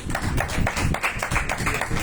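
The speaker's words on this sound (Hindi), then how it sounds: "पहले एक बार ताली बजाओ उसके लिए" A roomful of people at a house gathering in Faridabad clap together in a quick, fairly regular rhythm, each crisp slap close and loud, with no talking over them.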